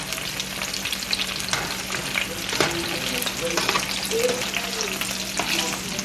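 Fennel sizzling and frying steadily in a hot pan, a continuous crackling hiss with small pops throughout, no talking.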